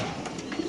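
Caged pigeons coo softly at a bird market in Bangladesh, a low murmuring burble that rises briefly near the end amid faint market ambience.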